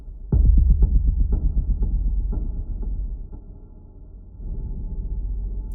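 A low, sustained synth drone with repeated soft note attacks that ring out into a long impulse reverb tail, swelling again near the end.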